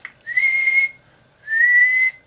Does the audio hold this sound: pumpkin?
no